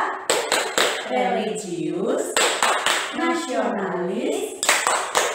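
A classroom of young students claps a rhythmic patterned chant, sharp unison claps in bursts between chanted words, close and loud, with a voice speaking over the clapping.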